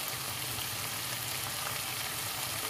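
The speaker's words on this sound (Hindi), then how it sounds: "अब मैं इसको हल्की आंच पे थोड़ी देर पकने दूंगी ताकि भिंडी जो है वो गल जाए" Okra (bhindi) frying in a pan on a low flame, a steady, dense sizzle and crackle that holds evenly throughout with no voices.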